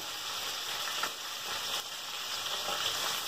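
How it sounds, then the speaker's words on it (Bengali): Boiled potato pieces crackle and sizzle in hot oil alongside a hilsa fish head, a steady close frying hiss with small pops and a few soft scraping stirs, no voices. "এখন প্রথমে আমি আলুগুলো দিয়ে দিচ্ছি।"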